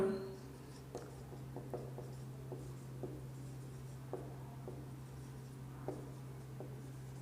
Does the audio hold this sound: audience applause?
no